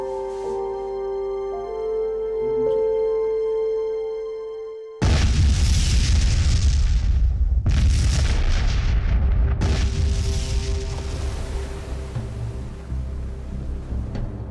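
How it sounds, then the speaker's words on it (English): A sustained musical tone gives way to a sudden loud blast from explosives peeling the cover off a dam's old concrete, followed by further heavy booming bursts and rumbling debris noise that fades slightly. "The explosion, in peeling off the cover of the dam to uncover the old concrete layer"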